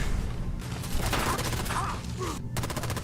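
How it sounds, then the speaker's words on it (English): Missile launcher fire at raiders in a Fallout video game: dense, loud overlapping booms and rapid gunfire crackle fill the scene, with a brief drop before the shooting resumes in fast repeated bursts. "Put my missile launcher to use."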